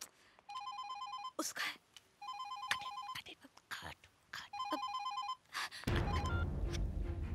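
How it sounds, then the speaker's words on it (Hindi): A telephone rings in an Indian comedy film scene, three repeated bursts of electronic ringing with pauses between, fairly close, while people talk briefly around it. "मैडम, आपका फोन।"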